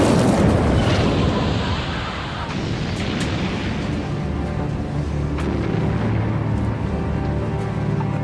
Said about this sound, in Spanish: de repente oímos una explosión.